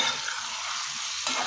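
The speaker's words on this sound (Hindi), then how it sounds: "अच्छे से इनको मिक्स कर देंगे।" Potatoes and vegetables being stirred in a frying pan, a steady scraping and sizzling texture that stays fairly even, with a brief louder stir near the end.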